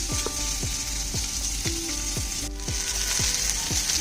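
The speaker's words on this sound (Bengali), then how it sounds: "এদিকে আমার মাছটা ভাজা হয়ে যাচ্ছে" Rohu fish fries in a pan with a steady, close sizzle, while a utensil scrapes in a regular rhythm through it, roughly every half second.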